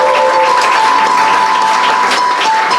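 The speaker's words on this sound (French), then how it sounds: "on applaudit très fort" Loud, dense applause from an audience at a 22nd-anniversary celebration of an NGO, steady and unbroken for the whole stretch, with no voices over it.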